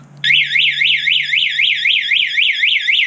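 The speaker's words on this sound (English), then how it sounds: "let's see if the alarm siren works." A scooter's alarm siren, set off with the panic button on a GY6 180cc scooter, wails loud and close in a rapid, regular warbling pattern of repeated up-down sweeps, sounding alone with no talk.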